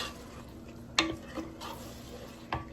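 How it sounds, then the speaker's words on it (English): A spoon stirs food with butter in a pot, giving a few quiet scrapes and clinks against the pot over a soft background hum. "Go ahead and give it a stir."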